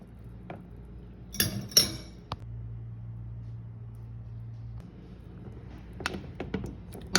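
A spoon clinks against a pot while stirring a bulgur and saffron dessert, a few sharp scrapes and taps close by over a low steady hum from the stove, quiet in between.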